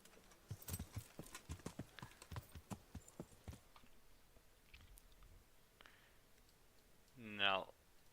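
Horse hooves clop in a steady rhythmic series, crisp and close, then fade; a brief animal call sounds near the end. In the video game Kingdom Come: Deliverance.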